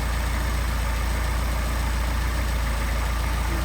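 A Mercedes 190SL engine with Solex carburetors idles at a steady pulsing rumble, even and continuous with a low throbbing beat, heard close and alone.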